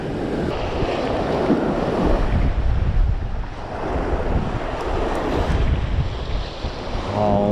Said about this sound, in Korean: 바람 너무 불고